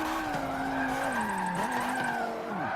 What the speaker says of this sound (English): I can chuck it round, complete the drift.